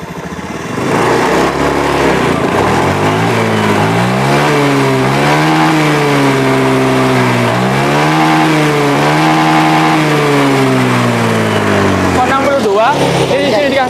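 A fuel-injected motorcycle with a stuttering, hesitating fault is revved in a workshop, its engine rising and falling through several throttle blips, loud and close, the rough running audible in the uneven drone.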